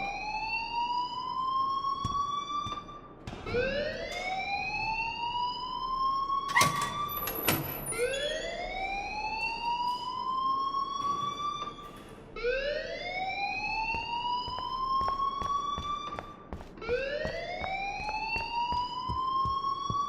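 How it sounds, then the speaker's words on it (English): Alarm in the game Life Is Strange, a loud rising wail that repeats in sweeping cycles roughly every few seconds, with clicks and a brief high tone between, no talk. "please turn off that alarm since that's your job"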